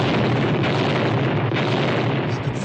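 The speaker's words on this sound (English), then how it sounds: "And then another and another explosion until instead of a ship, I was looking only at fire" Radio-drama explosion effect for a ship blowing up: a dense, continuous roaring blast of rumble and crackle, loud and sustained for the whole stretch without speech.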